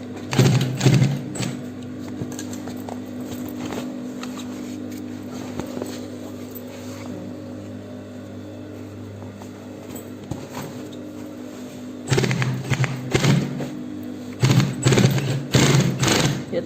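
Sewing machine top stitching on jean fabric of an Ankara backpack, running in bursts with a steady hum through the middle and louder rapid clatter at the start and end, alone without talk.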